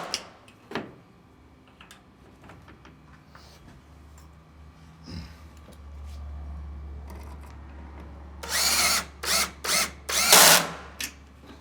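Power drill driving screws into a hinged security door frame, several short loud whirring bursts near the end after scattered clicks and handling noises, with a low motor hum in between.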